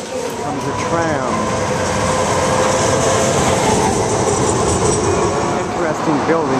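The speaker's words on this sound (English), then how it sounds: "Comes a tram." A tram rolls past close by in Belem, Lisbon, wheels rumbling and squealing on the rails, loud and sustained throughout.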